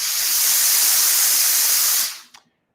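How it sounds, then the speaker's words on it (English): A Laurastar steam iron releases a strong pulse of steam, a loud steady broadband hiss lasting about two seconds before cutting off, followed by a faint click. "You can see normally the steam comes out like this."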